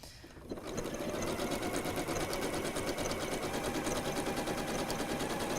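A sewing machine stitches a scrappy rainbow quilt block, starting after a short pause and then running at a fast, steady, close mechanical rhythm.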